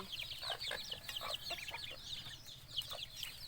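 Chickens cluck repeatedly inside a coop at feeding time, with ducks kept alongside, in a steady overlapping chatter of short calls at moderate distance.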